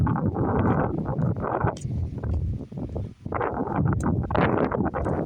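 Strong gusts of wind buffeting the microphone in rumbling waves, easing briefly in the middle before roaring back, close and loud.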